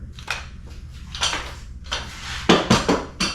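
Metal bolts, washers and nylon nuts for a Berley Pro roof-rack kayak loader are handled, giving a few scattered clinks and rattles in quick bursts, louder toward the end, with no talking.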